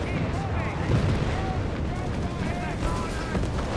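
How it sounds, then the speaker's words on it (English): Heavy paratrooper gunfire and explosions in Company of Heroes 3, a dense, continuous battlefield roar with booms and shots, while voices talk over it. "Paratroops sending heavy fire."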